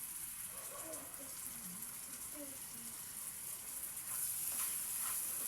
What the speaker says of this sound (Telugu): ఇందులో అల్లం వెల్లుల్లి పేస్ట్ వేసేసుకుందాం ఒక మూడు స్పూన్లు వేసుకుందాం